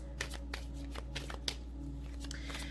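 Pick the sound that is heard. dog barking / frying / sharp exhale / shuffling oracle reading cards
shuffling oracle reading cards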